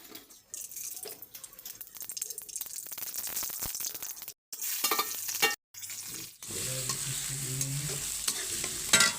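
Onions cooking in a pan for poha, heard as a close continuous sizzle with stirring scrapes, broken by two brief silent gaps, then a quieter bubbling stretch near the end.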